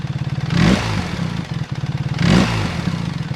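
A BMW R1300 GS motorcycle with an aftermarket exhaust is blipped twice to about 3,500 rpm, each rise swelling over a steady, throbbing idle, close and loud.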